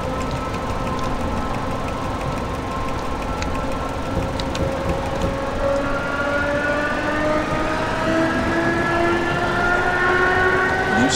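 Czech EMJ460 electric train starting up, a loud continuous mechanical hum with rising traction-motor whine that climbs steadily in pitch as it accelerates, close by with no talk.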